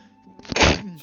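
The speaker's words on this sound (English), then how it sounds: "Didn't mean to sneeze." A single sharp sneeze from a streamer playing the medieval survival game Medieval Dynasty, loud and close, a short burst with no other voices around it.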